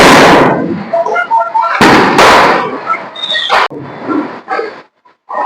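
Diwali firecrackers burst close by in several loud, sharp explosions with crackling bursts between them and short gaps of near silence; people speak around them.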